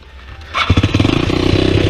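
A Honda NX motorcycle engine cranks and fires up, then settles into a loud, steady, rapidly pulsing idle close by.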